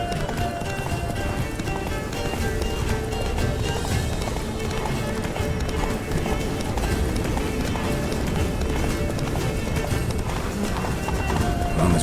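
Roach the horse gallops at full speed in The Witcher 3: Blood and Wine, hooves clip-clopping in a rapid steady rhythm over continuous game music and ambience, with an occasional whinny.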